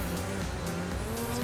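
A snowmobile engine held on the throttle while sidehilling, a steady droning motor with no clear revving or easing off, heard alone with no voices.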